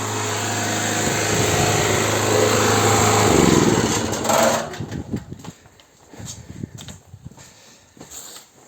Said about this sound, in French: je vais aller débrancher, éteindre le générateur